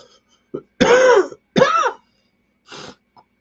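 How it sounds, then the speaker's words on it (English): Harsh throat clearing followed by two strained coughs, then a softer rasp, close and alone with silence between. "Excuse me, my cough again."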